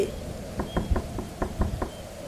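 A door is knocked on in two quick runs of about three or four raps each, close and distinct over a low room murmur.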